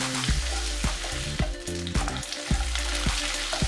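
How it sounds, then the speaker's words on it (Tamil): Onion, chilies and pepper sauté in hot oil, a loud, close, continuous sizzle broken by regular sharp clacks of a spoon stirring against the pan, with no talking. "இது எல்லாத்தையும் எண்ணெயிலே நல்லா வதக்கிக்கோங்க"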